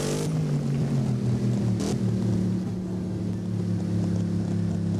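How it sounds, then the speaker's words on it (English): A car engine in the Driving Empire video game holds a steady, throaty drone with a sharp exhaust pop partway through, close and continuous with no talk. "I think the best sound about this is kind of like how it has like the little pops and stuff"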